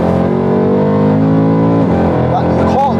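Supercharged 750bhp Mercedes C63 engine pulling hard from inside the car, a loud continuous roar with rising harmonic tones as it accelerates, a brief gear-change dip near the end, with speech mixed in.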